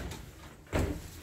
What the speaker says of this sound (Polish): No widzicie, drzwi się otworzyły.